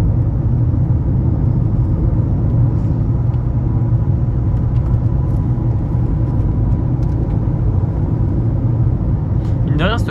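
Heard from inside a Toyota Auris as it accelerates, the engine gives a steady, loud low rumble and road roar that runs throughout without a break.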